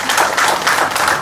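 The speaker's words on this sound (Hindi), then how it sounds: "आप जोरदार ताली बजाओ कि ये भी क्लैपिंग कर सकते हैं" An audience at the inaugural session of a writers' meet for differently abled writers claps together in a dense, steady wash of applause that runs loud and unbroken throughout.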